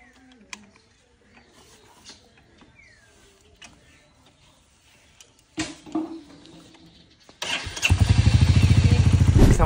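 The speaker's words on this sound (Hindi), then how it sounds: "हमारा बाइक स्टार्ट हो चुका है" A Royal Enfield Hunter 350 motorcycle that had been low on fuel is cranked and fires up near the end, settling into a loud, steady thumping run after quiet fumbling sounds.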